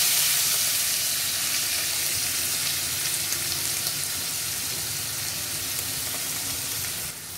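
Fenugreek leaves dropped into hot oil tempered with asafoetida for methi paratha filling, giving a loud, steady sizzle and hiss that fades slightly near the end, with no talking.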